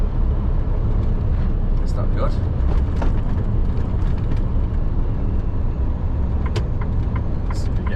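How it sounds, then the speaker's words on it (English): Road traffic rumbles steadily around a moving delivery van in Manchester, a continuous low drone with passing vehicle noise, while a voice talks over it. "got loads of traffic"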